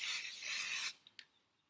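Hairspray sprayed onto the hair while styling a round-brush blow-out: a single steady, close aerosol hiss lasting under a second, then cutting off into near silence.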